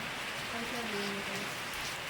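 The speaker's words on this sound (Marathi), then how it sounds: "पाऊस चालू झालेला आहे" Rain falling outdoors near farm fields by a village, a steady broadband patter close by, with faint voices in the background.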